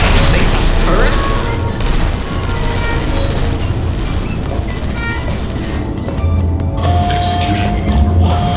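Turrets firing in Portal Stories: Mel, a loud dense barrage of rapid automatic gunfire with booms and mechanical clatter that runs through the whole stretch, no voices.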